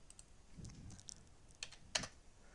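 Quiet, close keystrokes on a computer keyboard come in short irregular bursts, with a few sharper taps and a louder clack near the end, in a silent room.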